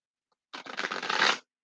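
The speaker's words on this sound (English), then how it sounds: "So I'm going to shuffle these about 4 times, well, 3 times now, and we'll get your energy oracle cards." A deck of oracle cards is shuffled in one quick riffle of rapid papery flutters lasting under a second, close and clear against silence, with no talking.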